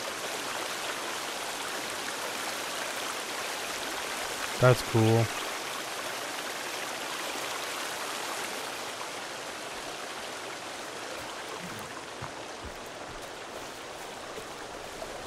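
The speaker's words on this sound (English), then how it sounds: "Oh, that's a waterfall." Waterfall in the survival video game Sons of the Forest, a steady broadband rush of falling water throughout, with a brief spoken comment near the start and occasional faint footsteps.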